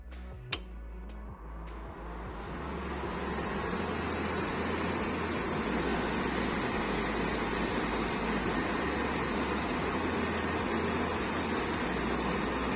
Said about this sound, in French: L'aspirateur fait un petit peu de bruit, mais c'est convenable